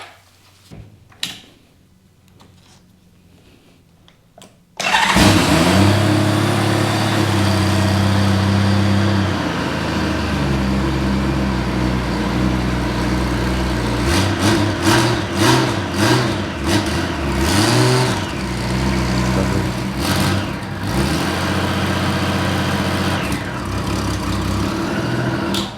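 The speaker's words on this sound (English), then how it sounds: "just a little fire up after I take anything off, just to make sure it's not critical to the bike running" A derelict Honda Goldwing motorcycle engine cranks and fires up after a few quiet seconds, then runs steadily and loud at close range with uneven revving throughout.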